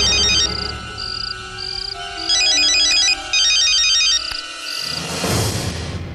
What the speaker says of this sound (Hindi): देखिए, दोबारा फोन किया है।